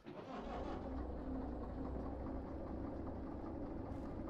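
A diesel locomotive engine in the train simulator game Derail Valley fires up and settles into a steady, deep idling rumble that holds throughout.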